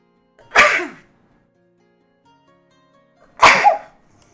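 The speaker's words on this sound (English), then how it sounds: "Oh, I feel a sneeze coming." Two sharp sneezes, a few seconds apart, each a sudden loud burst close to the microphone with quiet between them.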